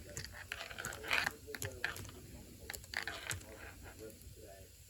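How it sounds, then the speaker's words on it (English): Fingers tap on a computer keyboard, scattered light clicks arriving in short irregular bursts, fairly quiet and close. "Just finger typing."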